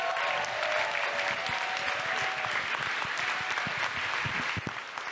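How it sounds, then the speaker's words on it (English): A large audience applauds hotel staff at the ANE 2017 closing ceremony, a dense, steady wash of clapping that holds at a strong level throughout and eases slightly at the very end. "So can we get another round of applause for our hotel staff?"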